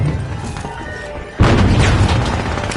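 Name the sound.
frag grenade explosion in a video game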